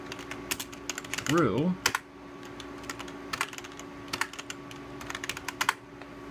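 A Sun workstation keyboard connected through a usb3sun adapter, with key click enabled, gives sharp, irregular clicks in scattered bursts over a quiet hum, with a brief warbling tone partway through and a voice speaking faintly.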